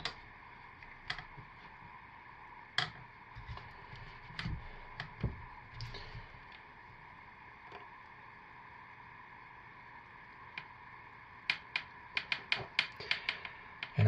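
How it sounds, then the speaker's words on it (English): A loaf of Apple Mango Tango scented soap being pushed through a soap cutter, giving scattered sharp clicks and snaps, quiet between them, with a quick cluster of clicks near the end. "these soaps just barely fit this cutter. It's actually pressing on the end just a little bit, but we're almost through"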